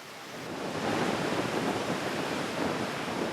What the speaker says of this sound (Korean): 한쪽에서는 남태평양의 거센 파도 소리를, 다른 쪽에서 산호초 바다인 라군의 잔잔한 물결 소리를 동시에 들을 수 있습니다